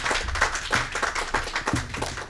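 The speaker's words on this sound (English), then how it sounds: "Let's give her and her team a big round of applause." Audience applause at a governor's small business relief bill signing, a steady wash of clapping for a local business owner and her team, with voices and some stray sounds mixed in.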